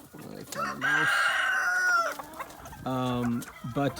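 A Java rooster crows among a flock, with a long, loud, close cock-a-doodle-doo broken by clucks and shorter calls from other chickens.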